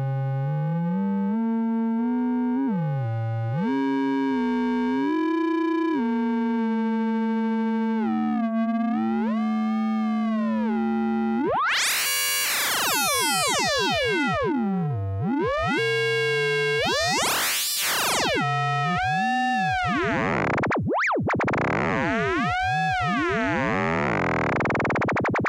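A Blue Lantern Lunar Modulation Lab VCO sub oscillator tone steps and sweeps through shifting pitches, pure sine-like at first, then bright harsh buzzing bursts and swooping glides, loud and continuous with no talking.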